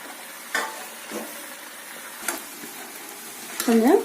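Potato going into a pan of frying onions and being stirred, with a few scattered scrapes and clinks of the spoon against the pan over a soft sizzle, ending in a louder clatter.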